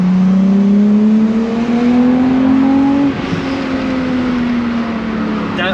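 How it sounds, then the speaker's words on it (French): Volkswagen Corrado VR6 engine, non-turbo, with loud intake noise while revving: a steady rising drone climbs for about three seconds, dips slightly, then holds and falls, close and continuous with no talking. "Tu vas entendre, t'entends le bruit de l'aspiration."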